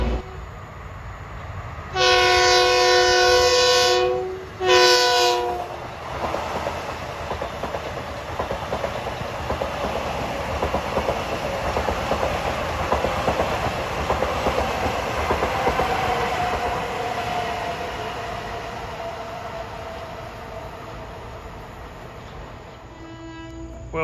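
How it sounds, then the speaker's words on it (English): A Long Island Rail Road train of Kawasaki M9 cars pulls into a station, opening with a loud two-part horn blast, then a sustained rumble and rail clatter as it rolls in close by. "This next train arriving is train 2152 with a set of Kawasaki M9s."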